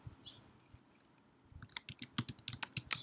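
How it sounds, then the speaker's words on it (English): Someone types a full name on a computer keyboard while creating an online account. After a quiet stretch with a faint click, a quick, close burst of key taps follows near the end. "you have to type in your full name"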